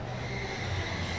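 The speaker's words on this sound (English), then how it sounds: "And now we just hear the straight tire squeal." Steady tire squeal from electric cars, including a gray Volkswagen ID.4, driven hard on an indoor show track at the 2023 Los Angeles Auto Show, a continuous loud screech with no break and no talking.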